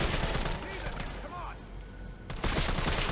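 Dense, loud gunshots in Resident Evil 3 fill the clip against a noisy game backdrop, with a renewed flurry of shots near the end.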